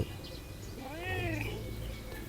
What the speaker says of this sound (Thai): น้องแมว